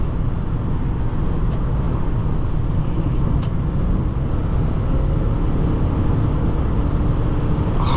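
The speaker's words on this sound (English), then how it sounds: "When I say this Lexus can move, it really can move." A 1995 Lexus LS400 cruising on a highway, with a steady broadband roar of engine, tyre and wind noise held at an even, fairly loud level throughout and no voices.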